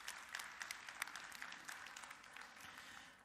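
Faint, steady applause from a conference audience for a panelist at an agri-food and climate panel, even clapping with a few sharper claps, distant and low in level.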